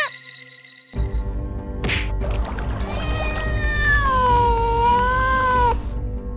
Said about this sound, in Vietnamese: Trời ơi, mèo kìa.